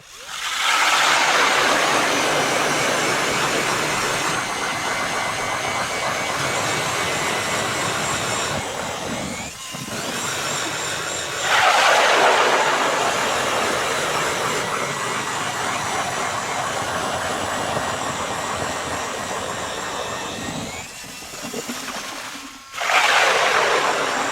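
An Eskimo battery-powered electric ice auger grinds loudly and continuously through ice, with brief dips where the drilling eases. The roar then surges again and the motor audibly strains and slows toward the end.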